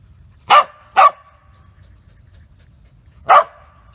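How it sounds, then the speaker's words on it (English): A dog barks three times, close and sharp: two quick barks in succession, a pause, then one more bark, with quiet in between. "It doesn't help that Rye is barking in our faces."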